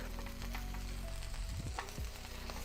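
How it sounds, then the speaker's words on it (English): Quesabirria tacos fry in rendered fat until crispy, giving a steady close sizzle and crackle with a few soft scraping stirs and no talk. "You want to cook these till they're nice and crispy"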